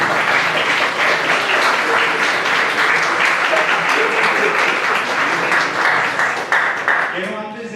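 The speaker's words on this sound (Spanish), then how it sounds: "Un fuerte aplauso para ustedes." A conference audience at an ethics and bioethics event gives loud, sustained applause. The clapping continues throughout and begins to fade at the very end.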